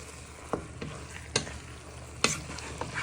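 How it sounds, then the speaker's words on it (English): Pork fried rice stirred around a pan, with a few sharp scraping strokes of the utensil standing out over a steady background hiss, close and fairly loud. "you want to give that a stir in, so that all gets nicely coated in"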